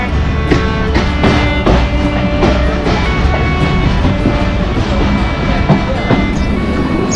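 A Barendra Express passenger train running in Bangladesh, heard from on board: a steady loud rumble with repeated clickety-clack rail beats throughout, and no voices.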